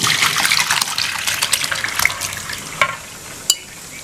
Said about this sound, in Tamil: இப்போ இதை வடிகட்டிடலாம்.